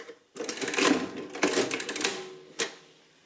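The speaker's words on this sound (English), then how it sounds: "To print a total, I have to hold down the total button and keep it held down while I pull the lever" Lever pulled on a Victor Series 2 mechanical adding machine to print a total, a close burst of clattering gear and ratchet noise, a second mechanical rattle, then a sharp single clack as the lever returns.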